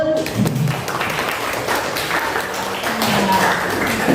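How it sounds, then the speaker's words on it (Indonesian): A classroom of students claps together, a dense, loud, continuous patter of many hands close by, lasting the whole stretch with a few murmured voices underneath. "Beri aplaus."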